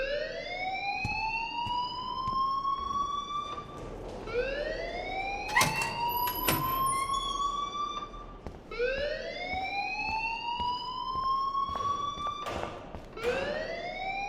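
A repeating electronic alarm in the video game Life Is Strange wails in rising sweeps about every four seconds, loud and steady, with a few sharp clicks between cycles.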